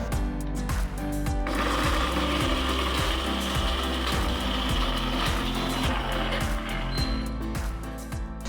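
A blender grinds fried peanuts steadily and loudly with a rhythmic chopping pulse, running continuously throughout with no talking.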